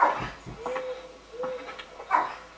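A dog gives a few short barks and whimpering yips, spaced out over a couple of seconds, fairly close with some quiet gaps between.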